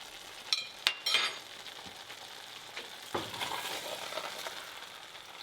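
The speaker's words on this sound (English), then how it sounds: "Careful with my stirring." Liberian fried kidney beans stirred in a pot, with a soft continuous frying sizzle broken by a few sharp spoon clinks early on and gentle scraping, all quiet and close.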